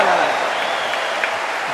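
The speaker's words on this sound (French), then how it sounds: "Vous applaudissez et vous avez raison." Spectators at a packed jai alai fronton in Saint-Jean-de-Luz applaud a rally in a dense, steady wash of clapping, with a voice speaking over it.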